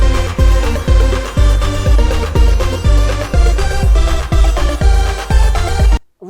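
Bass-boosted music track edited in Premiere Pro, loud and dense, with heavy booming low-end thumps on a steady beat under layered tones, cutting off abruptly just before the end.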